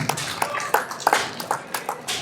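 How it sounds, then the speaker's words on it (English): Audience applause at a large community event in Bangalore, a dense spread of overlapping claps at moderate distance with a few sharper individual hand claps standing out, continuous for a couple of seconds. "Big round of applause."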